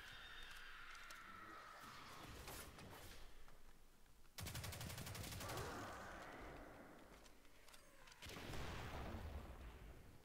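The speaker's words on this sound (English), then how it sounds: "I kinda like the machine gun. It does a lot of damage." Rapid machine gun fire in Destiny 2 Shadowkeep, sustained bursts with a sharp loud onset midway and another later, over a dense rumbling game backdrop.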